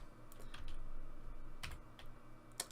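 Typing a command on a computer keyboard, a few quiet scattered key clicks in irregular bursts over a soft background hiss.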